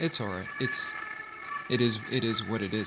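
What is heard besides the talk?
ambulance siren passing in the background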